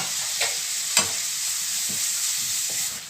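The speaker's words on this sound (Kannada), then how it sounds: "ಈರುಳ್ಳಿ ಫ್ರೈ ಆಗೋದು" Onions fry in hot oil in a pan for a Mangalore-style squid sukka, giving a steady close sizzle. A few soft stirring scrapes recur with no talk.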